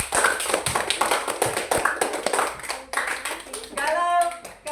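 Classroom students clapping during an Islamic studies lesson, a few seconds of quick, uneven hand claps, close and fairly loud, with voices talking over them.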